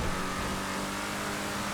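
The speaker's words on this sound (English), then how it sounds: "Dude, this truck sounds so good." A truck engine in GTA5 revs and drones steadily, a continuous mid-pitched motor roar with no voices over it.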